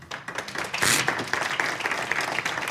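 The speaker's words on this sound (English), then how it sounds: "We should be clapping for each other" An audience claps to welcome panelists at a diversity, equity and inclusion panel, a moderate wash of many hands that swells sharply near the middle and then carries on steadily at a fair distance.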